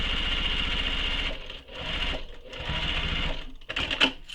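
A sewing machine runs a straight seam across a handbag with a steady close mechanical hum, briefly slowing twice before finishing with a few clicks.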